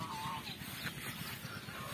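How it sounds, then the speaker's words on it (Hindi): Ducks honk and squawk loudly at close range on a village farm, a noisy overlapping clamor of fowl calls. "ये जो बत्तख है सबसे बड़ी वाली, अभी अभी मेरे पीछे भाग कर आई थी"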